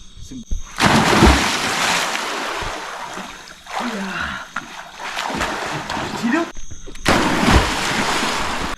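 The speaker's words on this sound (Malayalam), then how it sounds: "അപ്പോൾ നമ്മളിപ്പോൾ പൂളിൽ ഇറങ്ങിയിരിക്കുകയാണ്" Water splashes and sloshes in a resort swimming pool as people get in, continuous churning bursts broken by brief quieter gaps, with voices talking over it.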